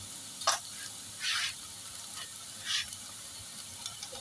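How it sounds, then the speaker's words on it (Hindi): Onions fry in an iron pan, a soft steady sizzle broken by a few louder hissing bursts as they are stirred. "तो चलिए प्याज को हम अच्छी तरह से भून लेते हैं"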